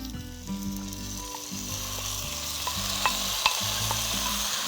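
Chicken dakgalbi fries in a lightly oiled, hot pan, giving a steady sizzle with occasional sharp crackles and the scrape of stirring, heard close up without talk.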